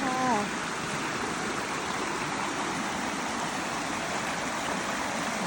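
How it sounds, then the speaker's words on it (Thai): A small stream of snowmelt water in Norway flows steadily and continuously, a broad rushing hiss close by with no other sounds standing out. "เป็นลำธารเล็ก ๆ เลยนะคะที่จริงเป็นน้ำหิมะละลายนะคะ"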